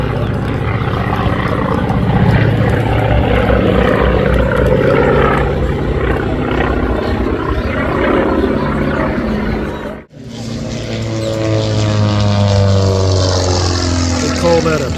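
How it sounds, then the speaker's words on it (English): Propeller engine roar from a T-28 World War II trainer aircraft flying at an airshow: loud and sustained, dropping out abruptly for a moment before returning with a shifting tone as the plane passes. "It's a T-28 World War II trainer."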